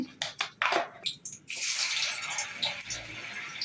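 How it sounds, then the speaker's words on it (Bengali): Oil with a little salt starts frying in a kadai for palak paneer: a few irregular spitting bursts, then a loud, continuous close-up sizzle. "একটু নুন দিয়ে ভাজছি"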